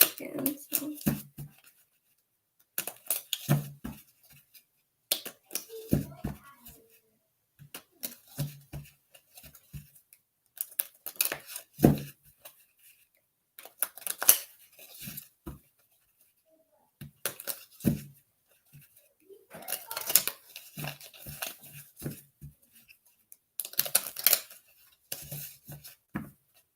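A deck of tarot cards is shuffled up close in repeated short bursts of papery flicking and slapping, separated by brief pauses.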